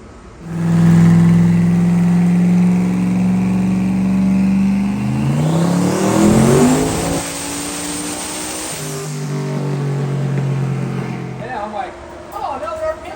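A car making over 1000 hp runs a pull on a dyno, its engine droning, then sweeping up in pitch to a loud rising roar before dropping back to a lower hum, while people talk over it.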